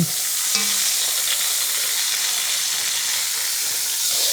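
Beef pot roast sizzles loudly in a Staub cocotte as it is flipped, a steady close hiss of frying with a brief clunk near the start.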